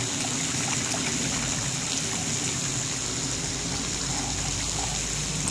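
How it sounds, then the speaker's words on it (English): Water in a river being splashed by a young girl, a steady watery wash and trickle heard close and continuous without talk. "What are you doing splashing, little girl?"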